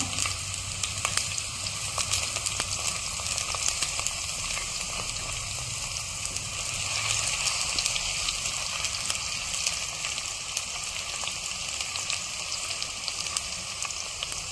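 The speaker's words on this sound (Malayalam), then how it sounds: "എണ്ണ നന്നായി ചൂടായിട്ടുണ്ട്. അതിനകത്തേക്ക് ഉള്ളി ഇട്ട് കൊടുക്കുകയാണ്." Crushed onions sizzle and crackle steadily in hot oil in a pan for Kerala-style beef dry fry, a continuous close hiss with scattered pops.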